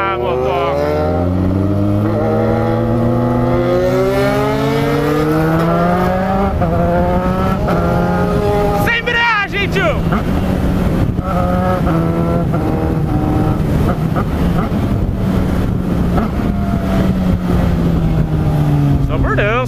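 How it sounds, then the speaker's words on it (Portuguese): A Suzuki SRAD 1000 sport motorcycle engine drones and revs steadily, its pitch climbing and falling as it accelerates, loud and close throughout with wind noise. "minha moto ela faz muito barulho"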